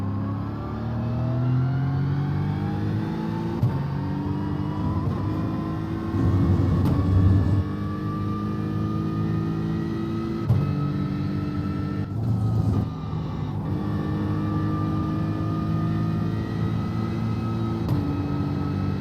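A racing car engine in the iRacing sim, driven behind a Mustang, drones loudly and continuously for nearly twenty seconds, its pitch climbing and dipping through gear changes with brief cuts between shifts, no talking.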